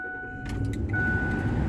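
Ford F150 4x4 pickup truck engine cranking and catching, a short burst of starter noise followed by a steady low idle rumble, close and fairly loud.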